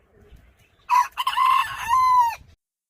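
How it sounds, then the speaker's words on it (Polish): A rooster crows loudly and close by, one drawn-out call with a brief break, then silence after it ends. "Kury tam się już drą"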